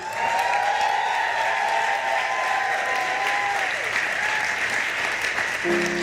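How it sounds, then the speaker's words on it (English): Sustained audience applause at a Hug Day gathering in a Los Angeles spiritual center, a full, even roar of many hands clapping with light cheering, steady from start to finish. "Let's give Ricky a hand, please"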